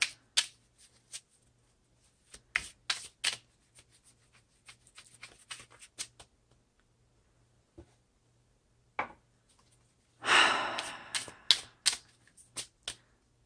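A tarot card deck is shuffled by hand. Irregular papery taps and riffles come close and fairly quiet, then a louder riffling burst follows near the end over a faint hum, and no one speaks.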